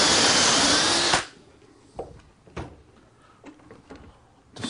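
A power drill whirs steadily for about a second as it bores a dowel hole through a Dowelmax jig, then stops abruptly, followed by a few sharp knocks and clicks of handling.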